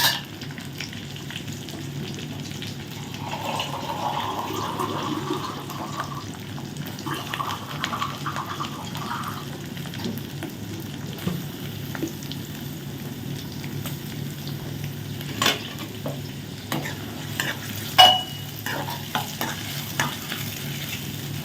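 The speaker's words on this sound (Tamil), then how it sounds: "இந்த டைம்லேயே நம்ம வெட்டி வச்சுருக்க வெங்காயத்தை வந்து போட்டுக்கலாம் வெங்காயம் ப்ளஸ் கருவேப்பிலை" Sliced onions and curry leaves frying in a pan for a spicy pepper chicken dish, a soft steady sizzle under scraping stirs, with occasional spoon clinks and taps against the pan.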